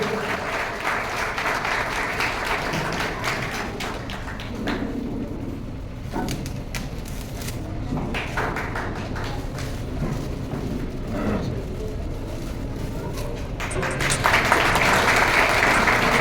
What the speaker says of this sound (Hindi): तालियों से स्वागत करते रहे आप लोग।